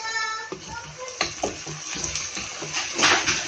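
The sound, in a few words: draining cooked cabbage, water pouring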